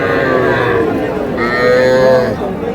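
Young bull calves at a busy rural cattle market moo loudly and close, two long drawn-out lowing calls following one another, with a murmur of market crowd underneath.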